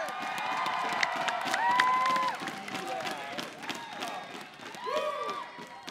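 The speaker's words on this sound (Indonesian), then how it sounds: "Silakan tepuk tangan dulu dong." Audience at a children's televised singing talent show applauding and cheering, a loud sustained crowd roar with clapping and shouts from young voices, swelling and easing over several seconds.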